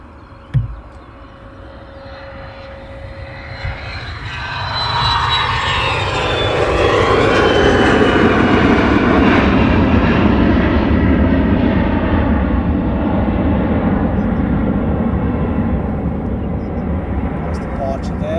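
An airplane departs London Luton Airport on a cold day. A jet roar swells in from about five seconds and peaks into a loud, sustained rumble that lingers, with a brief knock early on and voices over it.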